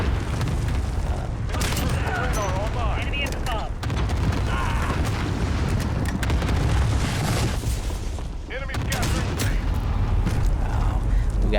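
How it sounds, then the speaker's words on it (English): Call of Duty: Modern Warfare (2019) multiplayer battle with cluster bomb strikes hitting among steel girders, a dense run of booming blasts and gunfire rumbling loudly throughout, with a voice talking over the action. "We got hit by one of those cluster bombs."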